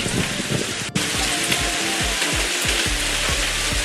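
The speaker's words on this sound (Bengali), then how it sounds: "আজকে বগলুর বৃষ্টির দিন, মানে শরীর ভিজবে, সাথে মনও ভিজবে।" Steady rain pours down on a rainy day in a Bengali cartoon, a dense even hiss of falling water throughout with scattered drips and a brief break near the start, heard alone without talk.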